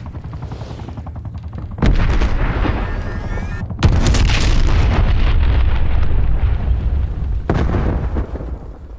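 Artillery barrage in a Call of Duty match: loud booming blasts and heavy gunfire rumble, with sharp impacts near two and four seconds and another burst later, sustained roaring battle noise throughout.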